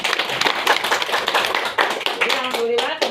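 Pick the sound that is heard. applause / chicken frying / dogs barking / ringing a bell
applause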